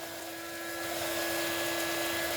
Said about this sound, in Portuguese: já vou utilizar até o soprador aqui